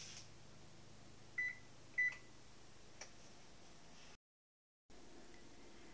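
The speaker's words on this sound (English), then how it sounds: "then I'm going to preheat the oven to 350 degrees" Two short electronic beeps come from an oven being set to preheat, followed by a faint click, all over a quiet, steady kitchen hum that briefly cuts out.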